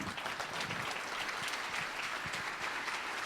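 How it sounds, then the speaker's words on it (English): Audience at a 2016 summit keynote presentation applauding: dense, sustained clapping from a crowd, steady and moderately distant, with no voices standing out. "give you another round of applause"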